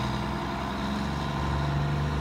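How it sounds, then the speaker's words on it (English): Large airport fuel trucks, led by an orange one, rumble off with a low, steady heavy-engine drone, moderately distant and continuous without talk. "That orange truck is the lead truck."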